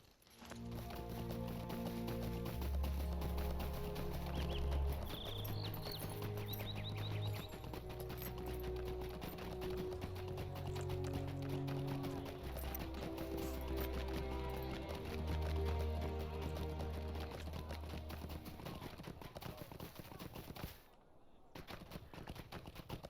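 Horse hooves clopping steadily from a mount in The Lord of the Rings Online game, a fast rhythmic clip-clop at close range over a musical backdrop, with a short pause before the end.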